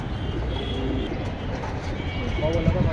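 Pankhi pigeon, a single male, cooing in low soft repeated notes under ongoing talk and background noise.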